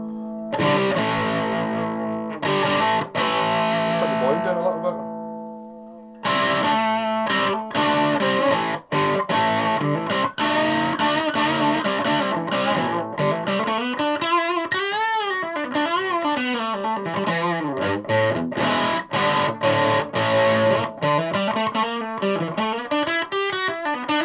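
Electric guitar played through a Washburn SX3 amp with distortion set quite low, loud chords and riffs with a light crunch and swirling effect, steady playing with brief pauses, no talking.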